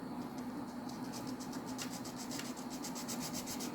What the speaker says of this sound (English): I'm cleaning the flange with the sandpaper as I clean the surface of the wheel